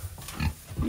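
Several pigs grunting in a hay-filled barn, with short, close, low snorting grunts coming in quick bursts that overlap, with no talk over them.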